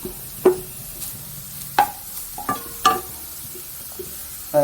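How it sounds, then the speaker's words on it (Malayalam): Browned onions being sautéed with carrots in a pan: a low background sizzle punctuated by distinct scrapes and clinks of a spoon against the pan, spaced irregularly, close and alone. "നമുക്കിതിൻ്റെ കൂടെ ക്യാരറ്റൂടെ ഒന്ന് വഴറ്റിയെടുക്കാം"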